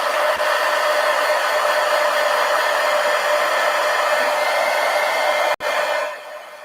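A hair dryer blows steadily on a book page, loud and continuous, with a brief click near the end before the airflow tapers off.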